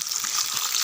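Whole peeled garlic cloves frying in a pan, a steady close sizzle with soft bubbling crackle throughout.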